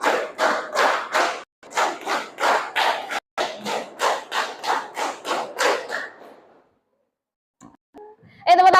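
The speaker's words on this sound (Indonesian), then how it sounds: "Tepuk tangan buat kita semua hari ini" A classroom of students claps in rhythmic bursts, short grouped rounds of clapping repeated several times, then falls quiet before a brief sound at the end.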